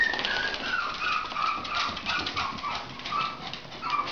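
Thin, high whimpering from Yorkshire Terrier puppies, a steady run of soft whines and squeaks overlapping one another with no talk.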